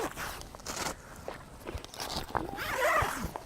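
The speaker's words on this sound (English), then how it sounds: "You really need to sneak around the other side of this to zip this on." A zipper is drawn along the fabric of an Austrack camper annex in several short rasping pulls, close by, with faint rustling and shuffling between strokes.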